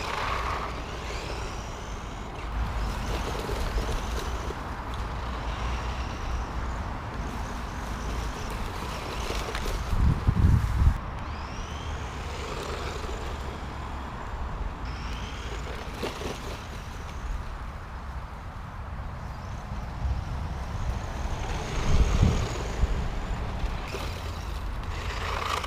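A XinLeHong 9125 1:10 brushed 4WD off-road RC car with dual motors drives steadily outdoors, giving a continuous rough, noisy rumble with a couple of louder surges, and no talking.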